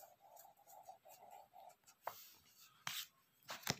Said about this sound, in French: Ici, j'écris dent.